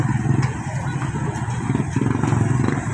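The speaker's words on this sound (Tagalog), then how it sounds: "Mga motor, mga sasakyan po." Motorcycles and cars move through a busy city street in Cebu, a steady mix of engine hum and revving close by, with brief rattles and faint talk in the background.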